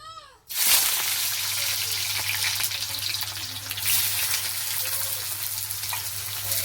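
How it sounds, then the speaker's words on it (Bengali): Chopped onion hits hot oil in a pan, already holding fried jackfruit and potato, and breaks into a loud, steady sizzle that continues without a break to the end. "পেঁয়াজটাকে একটু ভেজে নেব ভালো করে"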